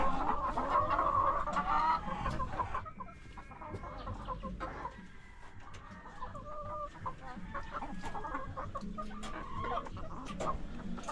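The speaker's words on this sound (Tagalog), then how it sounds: "pasok tayo dito sa aking manukan" Chickens in a backyard coop cluck and squawk continuously at close range, with varied calls overlapping and no talk.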